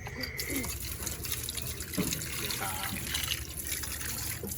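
Water runs steadily while something is being washed, giving a continuous splashing and pouring sound with small knocks and clatters throughout at moderate loudness.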